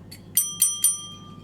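Three quick, bright dings from a metal counter service bell marked "ring for a drink" ring out close and clear, each one leaving a short lingering tone over a quiet room.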